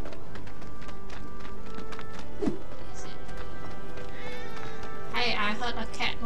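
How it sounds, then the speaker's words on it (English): A cat meows in Final Fantasy 7 Remake, a short cluster of mewing calls near the end amid game effects and background sounds. "Hey, I heard a cat noise."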